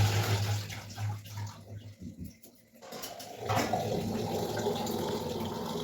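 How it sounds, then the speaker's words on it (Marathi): Tap water running over fenugreek leaves being rinsed in a home kitchen, a steady splashing flow that drops away briefly in the middle and then resumes. "भाजी स्वच्छ अशी 2-3 पाण्याने धुवून ठेवली नळाखालीच"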